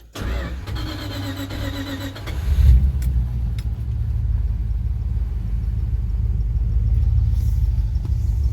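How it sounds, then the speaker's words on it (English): A 1973 Dodge D100 pickup truck engine cranks for about two seconds, catches, then settles into a steady, low, rumbling idle close by. "Let's give it a start. See what blows up."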